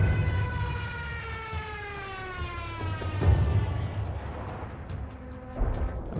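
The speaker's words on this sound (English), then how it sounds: "The Jericho Trumpet, a propeller-driven siren tube that made the approaching aircraft with its banshee howl as menacing as some fantastical beast." A Jericho Trumpet, the propeller-driven siren tube on a diving German aircraft, howls steadily with a wavering, slowly falling pitch over a rumbling engine drone, loud and continuous throughout.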